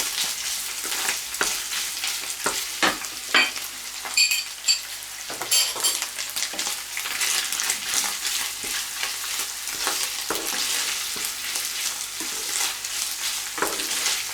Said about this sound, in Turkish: Şimdi içerisine salçalarımı koyuyorum. Bununla da kavuracağız çünkü.